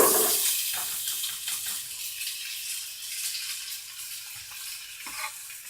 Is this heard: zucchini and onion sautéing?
yes